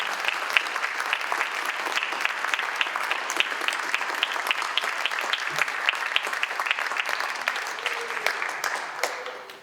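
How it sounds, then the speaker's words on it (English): An evening candidate forum audience applauds steadily, a dense even patter of many hands at moderate distance lasting throughout without a break. "join me in applauding the candidates this evening"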